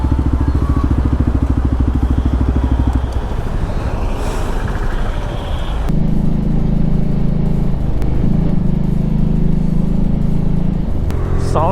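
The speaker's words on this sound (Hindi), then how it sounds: "जो इसके एग्जॉस्ट का साउंड है उसको मैं आपको काफ़ी बार सुना भी चुका हूँ एंड अभी भी आपको सुना देता हूँ।" A modified Bajaj Pulsar RS200 with an Akrapovic exhaust rides through city streets, its engine droning loud and close with a throaty buzzing note, dropping off briefly midway before surging again into a steady, strong revving tone.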